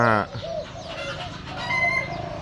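Chickens cluck and call close by, one squawking call followed by several shorter clucks over faint farmyard background noise.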